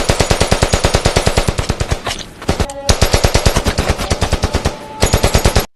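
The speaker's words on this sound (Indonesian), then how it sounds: "Sang ketua dan pasukannya pun langsung melepaskan tembakan" Troops in an arms-dealing war film open fire, a loud continuous burst of rapid machine-gun fire with dense repeating shots, a brief pause near the middle, then more sustained bursts.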